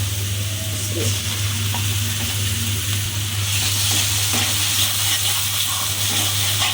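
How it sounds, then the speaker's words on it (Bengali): Tomato paste stirred into rui fish bhuna frying in a pan: a steady, even sizzle with faint scraping and stirring, continuous and close throughout over a low hum. "এখন দিয়ে দিব একটু টমেটো পেস্ট।"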